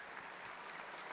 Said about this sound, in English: Good crowd reaction right there